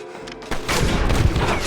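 A burst of gunfire erupts in Red Dead Redemption, loud and continuous after a short quieter lead-in, like a rapid exchange of shots.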